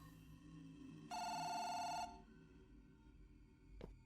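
An old dial telephone in the horror game Firework rings with one sharp, loud metallic bell burst lasting about a second, over a low droning ambience, followed by a brief faint knock; no talking.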